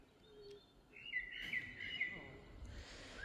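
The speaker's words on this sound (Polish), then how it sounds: "pięknie ptaki słychać" Birds sing outdoors with faint, thin chirps and short whistled calls in quiet surroundings.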